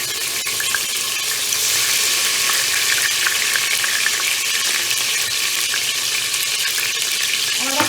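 Ginger-garlic paste frying in hot oil with onions for a bhindi gosht curry gives a loud, steady, close sizzle that crackles without pause the whole time, with no talking.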